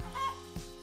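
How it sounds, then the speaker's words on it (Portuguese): A chicken in a video game clucks briefly, a few quick close clucks heard on their own within under a second. "Uma galinha que faz som de galinha aqui"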